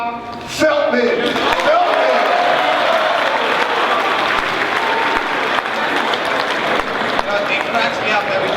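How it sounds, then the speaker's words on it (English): Audience at a school assembly breaks into sustained applause, a dense wash of clapping from a large crowd of students that continues steadily after brief speech at the start. "How about a big round of applause for Mount Olive's own, Mr. Rob Feldman."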